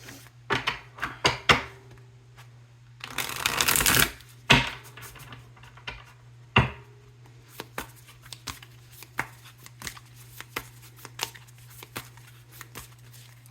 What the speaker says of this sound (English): Get one more good shuffle in there.